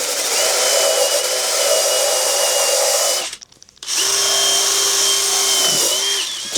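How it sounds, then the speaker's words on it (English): A power drill fitted with a scrub brush whirs loudly and steadily, cuts out for a moment, then spins up again with a scrubbing, buzzing drone while cleaning rubber car mats. "you got your drill and your brush and it's pretty straightforward"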